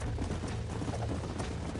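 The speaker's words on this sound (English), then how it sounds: "There's the horses!" Horses gallop in a rapid, steady clip-clop rhythm throughout, fairly faint and muffled, during a chase in the Red Dead Redemption video game on PS4.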